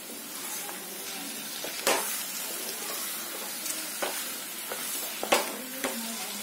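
Salted, turmeric-rubbed tuna pieces being stirred into onions in a hot pan: a constant sizzle broken by a few sharp scrapes and clinks of the spoon, close by with no talking.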